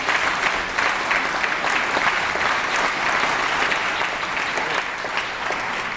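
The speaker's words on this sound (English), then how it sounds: "applauding" Sustained audience applause fills a chamber during a California State of the State address, dense and loud clapping continuing steadily without a break.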